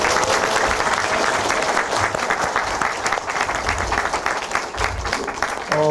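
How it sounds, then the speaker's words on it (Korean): An audience at a Gangwon democracy forum applauds together, dense continuous clapping from a crowd in an indoor hall that carries on for several seconds and fades slightly near the end. "오늘 오신 분들 서로에게 격려하는 박수를 한번"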